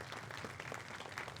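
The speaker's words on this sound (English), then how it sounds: "Let's give one more round of applause." Brief, faint applause from a business conference audience after a panel discussion, a steady wash of clapping heard at a distance.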